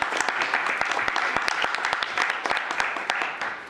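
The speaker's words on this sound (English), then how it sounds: "one round of applause for our Parks and Recs" A short round of clapping at a city commission meeting for the parks and recreation staff, a moderate crowd's steady applause with sharp individual claps standing out, no talking.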